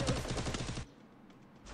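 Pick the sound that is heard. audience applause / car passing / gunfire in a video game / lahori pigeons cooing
gunfire in a video game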